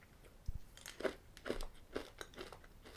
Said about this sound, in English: Just like sort of like it's basically chocolate with a bit of a crunchy bit to them really.